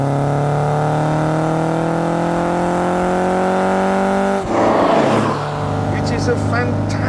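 A Lancia Fulvia Coupe's V4 engine revs steadily upward with a rising, raspy harmonic drone, then shifts gear around the midpoint and settles into a lower, continuous note, loud and close throughout.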